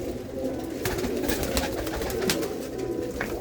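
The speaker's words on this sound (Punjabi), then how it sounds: "ਲਾਲ ਚੀਨੀ ਕਬੂਤਰੀ ਆ ਲੱਗਦੀ ਹੈ" A red Chinese pigeon coos in a fort where pigeons are kept, its low throaty calls repeating close by alongside faint rustling and clicking.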